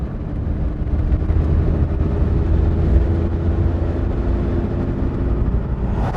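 A Daewoo Matiz engine drones steadily from inside the car while driving, a constant low hum with a faint steady tone and road rumble, no voices.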